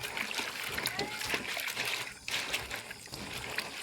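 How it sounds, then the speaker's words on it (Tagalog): Water splashes and trickles as kangkong (water spinach) is wetted for adobo. Short sloshing bursts come close by throughout, with faint voices in the background. "Basan lang natin sa tubig."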